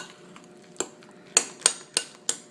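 A utensil stirring mini chocolate chips into chocolate cupcake batter in a bowl, giving a few sharp knocks against the bowl, one every quarter second or so, close by and otherwise quiet.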